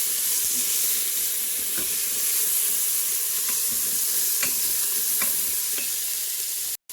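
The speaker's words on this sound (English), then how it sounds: "As you can see, I added the celery to the stock pot." Celery softens in a stock pot with a steady, even sizzle and hiss, broken by a few faint clicks of a stirring utensil, with a brief cutoff near the end.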